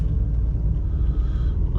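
Passing cars in light city traffic make a constant deep rumble of engines and tyres, moderately loud and even throughout, with no voices.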